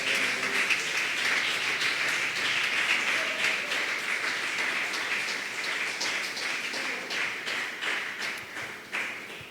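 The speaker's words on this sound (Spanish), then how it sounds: "Denles aplauso al Señor" Sustained applause from a church congregation during a worship service, a dense, steady wash of many hands clapping throughout that tapers slightly toward the end.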